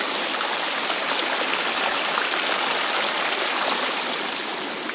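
Heavy runoff from 2.5 inches of rain rushing through a drainage ditch near a filling pond, a steady, loud, unbroken wash of flowing water with no pauses.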